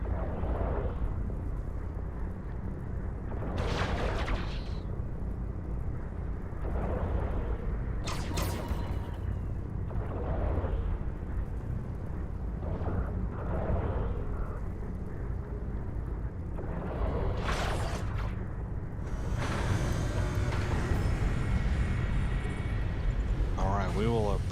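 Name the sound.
ship's grouped guns firing in the video game EVE Online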